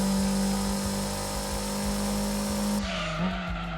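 A race car in Gran Turismo 2 on PS1 pulls hard in sixth gear, its engine holding a steady high drone with tire squeal, then dropping slightly near the end; loud and close with no speech.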